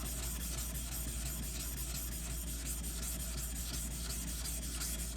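A Takamura Chromax 210mm gyuto is thinned on a whetstone with a steady, faint gritty rubbing of steel on stone, continuous and even throughout.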